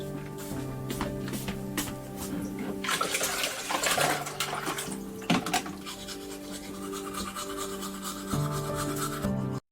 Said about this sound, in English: Like most people around the world, he washed his face and brushed his teeth.